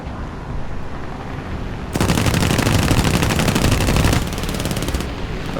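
Sustained aircraft machine-gun fire in a War Thunder air battle with an H-81A-2 fighter, a dense rapid rattle starting abruptly and holding steady for about two seconds before thinning to a lighter burst, loud and close with no talk over it.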